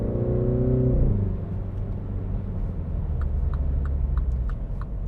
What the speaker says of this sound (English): Good turn signal noise as well.